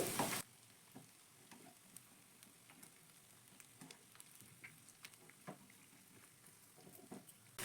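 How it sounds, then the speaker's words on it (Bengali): Egg and potato chops frying in oil, turned over until reddish-brown: a soft, low sizzle with scattered small crackles follows a brief loud burst at the start. "আমি উল্টে পাল্টে লালচে করেই ভেজে নিচ্ছি প্রত্যেকটা চপকে"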